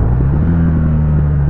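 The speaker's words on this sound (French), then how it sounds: "Frein moteur incroyable. Regardez, écoutez-moi cette petite sonorité." A 2007 BMW R1200 R motorcycle's flat-twin engine, with Stage 1 tuning, burbles with a low, throbbing rumble under engine braking as it slows, steady and close, with no voices.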